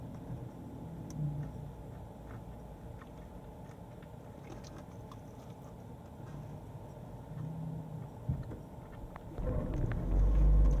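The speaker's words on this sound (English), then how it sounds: "If you're wondering what that noise is, by the way, that's the car." A low engine rumble drones steadily with faint ticking, growing louder and deeper toward the end as the vehicle seems to accelerate.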